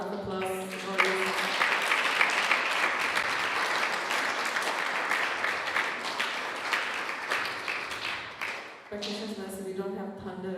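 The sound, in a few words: loud audience applause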